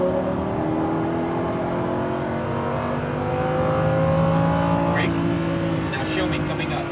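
A Lamborghini Huracan accelerates with a rising engine note that climbs steadily through the gear, heard from inside the car, while an instructor talks over it.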